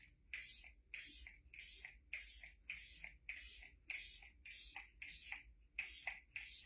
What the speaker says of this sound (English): I spray my whole face